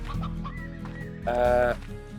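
Hens cluck in the video game Slime Rancher, a few short, close clucks and squawks with a louder burst in the middle, over a low game backdrop.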